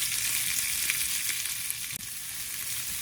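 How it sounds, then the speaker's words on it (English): Peppers and onions fry in a pan aboard a narrowboat, giving a steady, dense sizzle that holds evenly throughout with no voices. "Then I'm going to put the peppers and onions in. Let these cook down."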